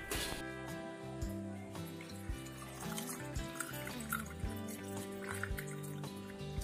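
Homemade iced tea pours over ice cubes in a glass, a steady close trickle and gurgle with small clinks of ice running throughout, no voices.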